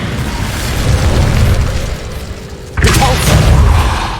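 A loud, sustained roaring burst of fire magic from the Incendio spell in Hogwarts Legacy, rumbling for a couple of seconds, dipping briefly, then flaring again in a second blast.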